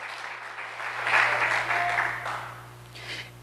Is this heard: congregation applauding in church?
yes